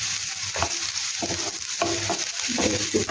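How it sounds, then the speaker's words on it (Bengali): Chopped onion fries in a pan with a steady sizzle, and a spoon scrapes and stirs in regular strokes about every half second, close and moderately loud with no talking. "পেঁয়াজ কুচিটা দিয়ে দিলাম।"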